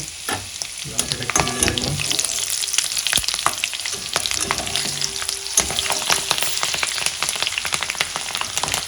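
Garlic and ginger fry in a pan for chilli chicken, giving a loud, busy sizzle with rapid spattering crackles and repeated stirring clatter, close and without talk.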